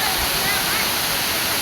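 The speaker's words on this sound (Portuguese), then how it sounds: "lá na frente também tem uma outra cachoeira, pessoal, ó" A waterfall roars as a broad, steady rush of falling water, loud and close, a constant wash with no speech.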